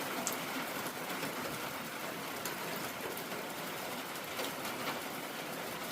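Heavy rain pours down on a homestead in a dense, steady hiss that holds at an even level throughout, a continuous wash of drops with no voices.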